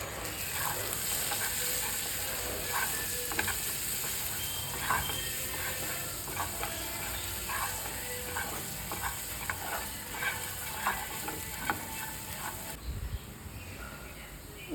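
Mushroom masala sizzles and fries in a pan with soft repeated stirring scrapes, a steady low crackle throughout.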